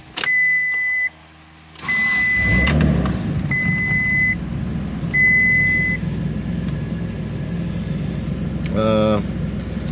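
A Dodge Stealth (3000GT) with a check engine light fault idles steadily while repeated electronic warning chimes beep in long tones above the engine's rumble.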